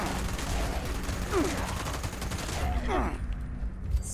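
Gunfire from a weapon in the video game Fallout 76, a burst of rapid shots up close, followed by game sound effects with some sweeping tones.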